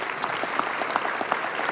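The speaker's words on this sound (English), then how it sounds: "a round of applause for them" Audience applause for the people behind a strategy at the Sons & Brothers announcement, a dense, steady round of clapping from a crowd close by, with no talking over it.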